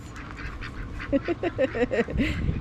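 Ducks quack near a windy fishing spot on the south coast of New South Wales: a quick run of several loud, nasal quacks close by, over steady wind noise.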